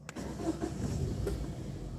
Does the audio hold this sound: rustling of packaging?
no